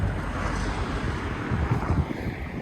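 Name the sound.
strong cold wind blowing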